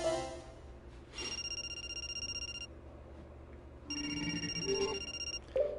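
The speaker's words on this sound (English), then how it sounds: "Cell phone?" A cell phone rings in The 25th Ward video game, two electronic tonal bursts about a second long each, fairly faint over low background music.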